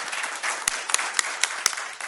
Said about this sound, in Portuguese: Gente, vamos dar uma salva de palmas para a doutora Elisângela.